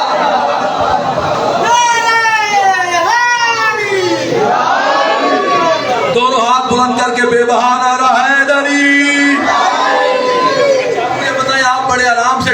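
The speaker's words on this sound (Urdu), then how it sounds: "مجھے بتائیں آپ بڑے آرام سے ڈھیلا ڈھیلا نعرہ لگا رہے ہیں" A large gathering of mourners at a Muharram majlis in an imambargah chants a religious slogan together. Many loud voices rise and fall in unison in repeated swelling calls, continuous and close, with a leader's voice among them.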